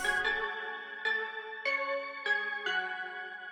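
A bell sample from a hip-hop beat built with stock samples plays five bright struck tones spaced about half a second apart, each ringing and decaying, clear and upfront.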